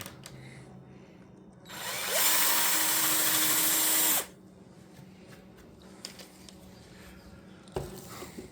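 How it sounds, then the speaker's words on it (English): A power drill bores holes in a pizza press during a single close, loud burst of about two and a half seconds, with quieter handling taps and knocks before and after. "the last 6 that need to be drilled"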